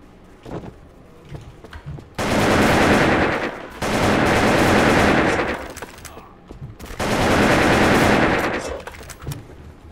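M4A1 rifle fire in the online shooter Wolfteam comes in three long, loud automatic bursts, each lasting over a second, separated by quieter gaps with faint game noise.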